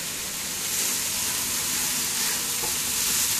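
Pork stir-frying in a wok for Singapore Punggol fried mee goreng, a steady dense sizzle with hissing steam, loud and close throughout with no talk.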